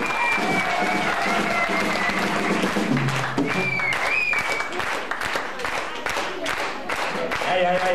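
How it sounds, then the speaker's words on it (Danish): Loud, sustained clapping from a concert audience, dense and continuous throughout, with a few voices and some sung or shouted tones rising over the applause. "I klapper højt nok, så kan han høre det"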